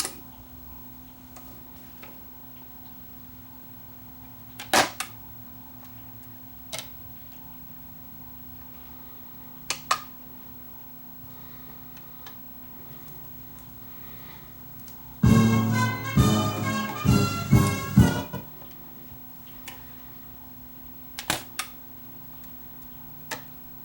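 A Dual 1214 automatic record changer, recently repaired after a broken tone arm, runs through its cycle: faint ticks and clicks over a low steady hum, then a louder burst of mechanical clattering for a few seconds before quieting again.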